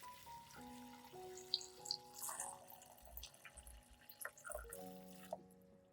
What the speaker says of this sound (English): Then pour enough water to cover the ginger.